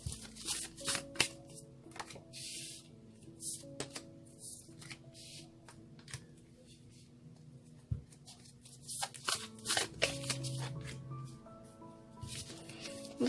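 Tarot cards being shuffled by hand, a soft riffling and flapping repeated in short bursts, close but quiet, with brief taps and handling noises between passes.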